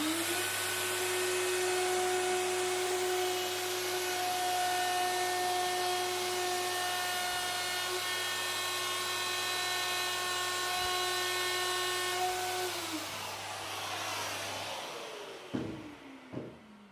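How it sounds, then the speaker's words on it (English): Portable power cutter trimming the lipping flush on a wooden front door, a steady high-pitched motor whine running loud and close for about fifteen seconds before spinning down, with a few knocks after it stops. "So this is the cutter, and it's dead flush, it's following the lipping underneath."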